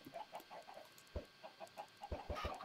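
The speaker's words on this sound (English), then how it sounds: "Oh, hello, chicken. Hello, other chicken." Chickens in Minecraft cluck in a run of short, bright, pecking bursts, with a few louder low thumps mixed in; no one speaks.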